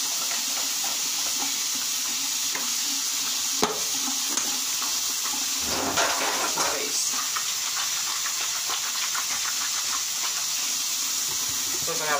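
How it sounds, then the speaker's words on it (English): Tap water runs steadily into a sink while hands are washed, giving a constant loud hiss and splash with a few brief clatters, and no talk over it. "I gotta wash my hands before I put it on my face."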